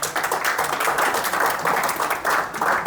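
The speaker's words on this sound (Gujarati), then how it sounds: "એક વખત જોરદાર તાળીઓ થઈ જાય મેરી કહાની માટે" An audience at a business networking meeting applauding, a steady wash of many hands clapping in a room, sustained for a few seconds with no talk.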